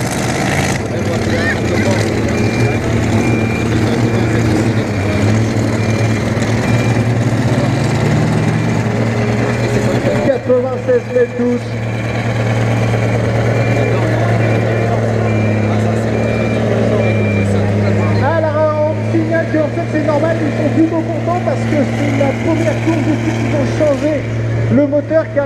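A pulling tractor fitted with a brand-new V8 engine at the Bernay 2017 tractor pulling event drones loudly and steadily throughout, its deep engine roar running under a commentator's continuous talk.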